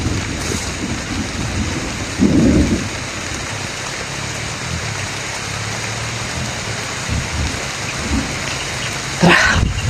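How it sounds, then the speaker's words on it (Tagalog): Heavy rain pours down steadily in a dense, hissing wash outdoors, with a couple of brief louder bumps and rustles close by. "Makas yung ulan mga tol."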